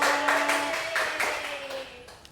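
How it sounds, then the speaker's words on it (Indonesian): A class applauds a student during a microteaching lesson, a soft spread of scattered hand claps that fades toward the end, with tonal voices faintly mixed in. "Tepuk tangan buat Mbak Gitna"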